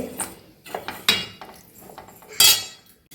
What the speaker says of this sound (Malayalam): ഇനി നമുക്കിതിനെ നന്നായിട്ട് വറുത്തെടുക്കാം നന്നായി ഇളക്കി കൊടുക്കണം